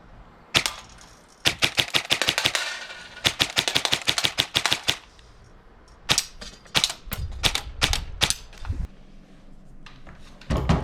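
An airsoft Mk18 AEG loaded with 0.25g BBs and running on an 11.1 LiPo battery fires rapid bursts of sharp, clacking shots. The short strings of fire are separated by brief pauses.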